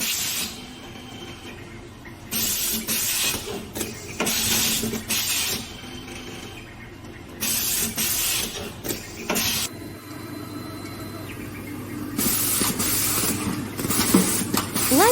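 A fully automatic inner and outer wire stripping machine works through single and double wire, giving repeated bursts of hissing, clicking mechanical action over a steady motor hum, close and continuous.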